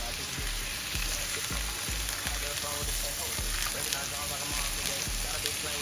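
A steak sears in a hot pan with a loud, steady sizzle and crackle of spattering fat, close up and continuous with no pause, while faint thuds tick underneath.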